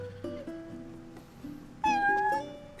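A cat in the video game Final Fantasy XV meows several times. The clear, tonal cries are close and alone, and the last one is louder and higher.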